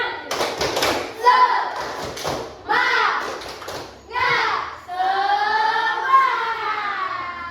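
Children in a scout group chanting together in unison, loud, rising and falling shouted syllables with bursts of rhythmic clapping and taps between phrases.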